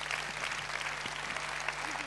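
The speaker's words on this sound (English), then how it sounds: "Give a big round of applause." A crowd claps steadily throughout, a dense continuous patter of applause at moderate volume with no voices standing out.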